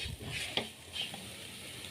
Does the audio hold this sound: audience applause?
no